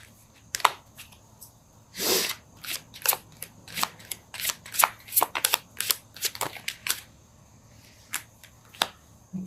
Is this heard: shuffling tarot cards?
yes